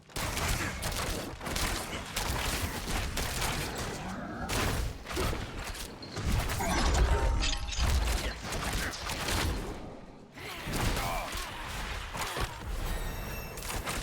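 Rogue shooting attacks in Diablo 4, a dense run of rapid ranged shots and impacts in repeated bursts with brief gaps, loud and close, with little speech.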